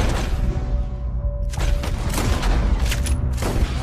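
Gunfire in Red Dead Redemption 2, heavy booming shots with dense low rumble, a quieter stretch then several loud blasts close together, no talk.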